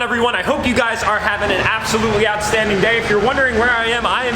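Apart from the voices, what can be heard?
None of the usual background noises is heard.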